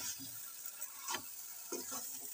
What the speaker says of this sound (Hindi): इसे हमें तब तक भूनना है तब तक ये चीनी अच्छे तरीके से हमारे दाल में मेल्ट न हो जाए